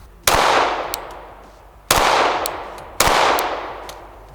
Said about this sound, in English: We're going to go ahead and shoot into my brand new Infinite Defense rubber target and get zeroed up first